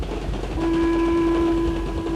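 A train carriage runs on rails with a loud, steady rumble, and a sustained whistle-like tone sounds over it for about a second.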